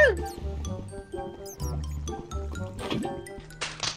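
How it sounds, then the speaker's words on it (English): A baby zombie pig in the video game Minecraft lets out a few short, squealing oinks over steady game music, fairly quiet and close. "It's a tiny fucking zombie babi."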